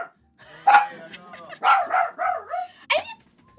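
A small pet dog named Kofi gives a few sharp, yipping barks at close range, spaced out between bursts of a person's voice talking.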